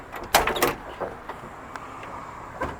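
Door of a 1978 Ford Bronco Ranger XLT 4x4 being opened, a close metallic clunk and rattle of the latch followed by faint softer clicks.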